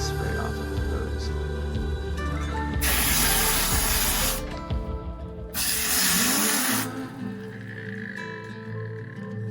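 A garden hose sprays water to rinse off sludge outdoors, two loud hissing bursts of a few seconds each over a steady background hum.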